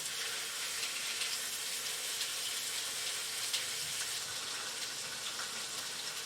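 Pork chops sear in a hot pan with a steady, dense sizzle and hiss, close and even throughout, with no talk over it.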